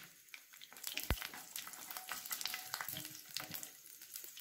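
Garlic cloves fry in sesame oil with mustard seeds, fennel and curry leaves, a fairly quiet crackling sizzle with popping bursts and one sharp knock near the start.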